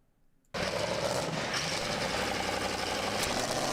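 A turbo diesel truck engine kicks in abruptly after a brief quiet moment and runs steadily at a loud, dense roar with a constant rumbling texture.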